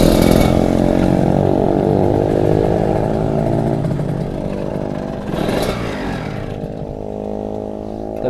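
Motorcycle engine revving loudly as the throttle is pulled, with a loose exhaust silencer giving a rough, clattering edge; the close, sustained roar dips briefly then surges again near the end.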